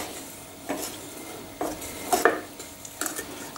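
Brigadeiro mixture stirred in a pot, with repeated scraping strokes of a spoon against the pot at an irregular rhythm, a faint sizzle underneath and a few light metallic clinks.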